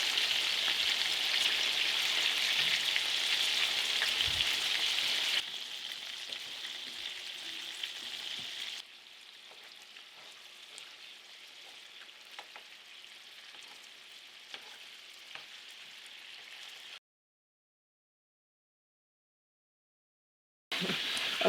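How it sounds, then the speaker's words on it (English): Meatballs fry gently in a pan with a steady, close crackling sizzle that holds for about seventeen seconds and softens partway through, then stops abruptly into silence before starting again at the very end. "we're just going to start gingerly cooking our meatballs"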